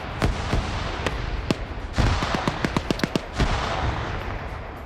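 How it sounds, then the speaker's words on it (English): Grenade explosions during a team PvP video game fight, a dense run of sharp bangs and pops, some isolated and others in rapid clusters, over steady background noise with no talk. "Both sides exchanging grenades now"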